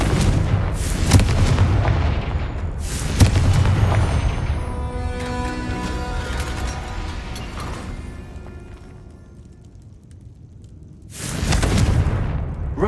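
Confringo fire spell explosions in the Hogwarts Legacy video game, with several loud booming blasts and rumbling tails at about 1, 3 and 11 seconds, and a quieter stretch between them.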